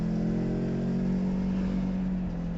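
A Kawasaki Versys X 300 motorcycle pulls away under steady throttle, its engine holding a loud, even drone throughout with wind noise around it and no talk.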